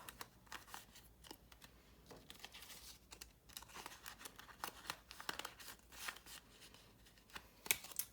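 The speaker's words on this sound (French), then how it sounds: "Donc je vais les plier séparément. Je vais les mettre dans l'enveloppe." Paper banknotes, including 20-euro notes, are folded and tucked into envelopes, heard as soft, close crinkling, rustling and creasing in continuous small bursts with a few sharper snaps and no voices.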